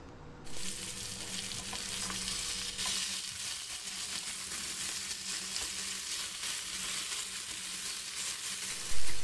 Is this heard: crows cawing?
no